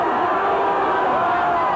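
Dense crowd noise at the Pittsburgh airport as fans press around the arriving Penguins hockey team, a steady roar of many voices without distinct cheers.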